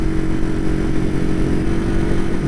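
A 1969 Honda CL350 Scrambler motorcycle engine runs at a steady idle, a loud, close, rough low rumble with a raw mechanical clatter.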